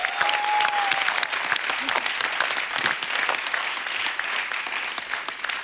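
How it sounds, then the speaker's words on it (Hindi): Studio audience on a comedy talk show breaking into loud, sustained applause and cheering, dense clapping throughout with a brief whistle near the start. "एक बार जोरदार तालियां होनी चाहिए।"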